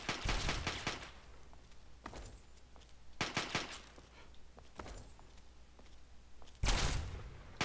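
Bursts of gunfire from a Fallout 3 firefight, with sharp volleys at the start, around the middle and a loud burst near the end, sporadic shots between them, all at moderate distance with no talking.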